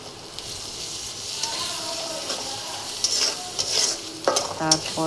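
Onion paste frying in a pan with fried garlic, sizzling softly under steady stirring, with occasional sharper scrapes and clinks of the spoon against the pan toward the end.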